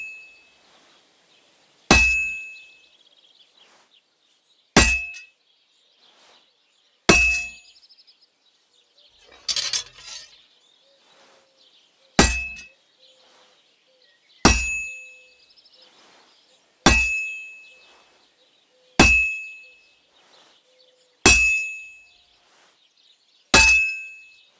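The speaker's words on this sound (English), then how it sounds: "Besides the sparks, you can tell a good strike by the sound it makes." A blacksmith's hammer strikes metal at a forge in the video game Kingdom Come: Deliverance 2, about ten sharp ringing clangs spaced two to three seconds apart, each decaying into near silence, with a brief rustle between blows.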